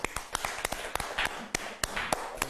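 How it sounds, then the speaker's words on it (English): Scattered applause from a workshop audience, sparse individual claps standing out sharply in an irregular rhythm rather than a dense roar, close and moderately loud. "Let's give Roberto Valenzuela a huge round of applause."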